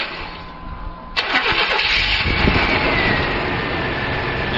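An old petrol car with over 200,000 miles cranks briefly and catches, then settles into a steady, loud, close idle with a continuous rough hum and no talking.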